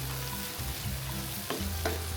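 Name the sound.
tomato and spice masala frying in a pan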